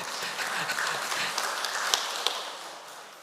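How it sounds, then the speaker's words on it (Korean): A temple congregation at a Won Buddhist service claps together, a soft, steady patter of many hands with a few sharper claps standing out, fading slightly at the end. "박수 한번."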